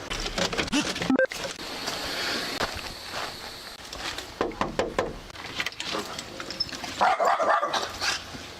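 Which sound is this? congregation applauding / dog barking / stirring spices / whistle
dog barking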